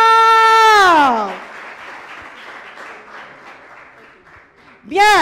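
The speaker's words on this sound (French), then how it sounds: "on l'applaudit très" An audience at a youth talent show event claps in moderate, steady applause, framed by loud high voices cheering or wailing at the very start and end.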